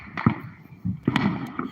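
Fourth of July fireworks explode in a few sharp, irregular bursts, with loud crackling pops clustered close together and short gaps between them.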